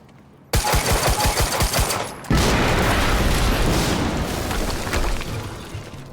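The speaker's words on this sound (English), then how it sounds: "we just heard an explosion near the harvesting perimeter" In the video game Quantum Break, a rapid burst of gunfire is followed by a loud, roaring explosion that rumbles on for several seconds before fading.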